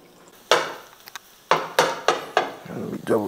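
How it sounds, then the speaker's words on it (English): Whipped eggs go into a simmering pan amid sharp clattering knocks of utensils against cookware, several distinct impacts close together with a faint sizzle between them. "wanna throw the eggs that we just whipped up here into whatever's simmering"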